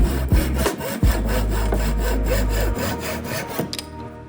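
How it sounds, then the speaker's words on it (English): A hand saw cuts down glued wood pieces for a wood and epoxy wall-art panel. Close, rhythmic rasping strokes repeat steadily and then stop near the end, with no talk. "and then sawing it down"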